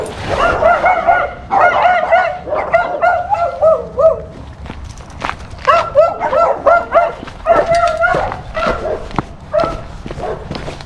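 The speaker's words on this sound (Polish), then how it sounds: "Po szczekaniach psów poznacie," A dog barks in a village, with repeated loud, near yips and barks coming in bursts, along with some whimpering and faint birdsong in the background.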